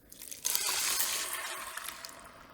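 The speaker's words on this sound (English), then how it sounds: "we'll be adding milk" Milk pours into a pan of dry cooked hamburger meat for Hamburger Helper. It gives a close, hissy, splashing rush that starts abruptly and tapers off over about two seconds.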